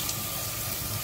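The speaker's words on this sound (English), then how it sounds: "So we're just rinsing them right now." Tap water runs steadily into a kitchen sink while bean sprouts are rinsed, producing a continuous close splashing hiss.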